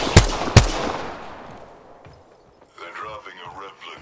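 Two sharp, loud gunshots in a video game, fired close together with a long echoing decay, then quiet before voices talk over the fading sound.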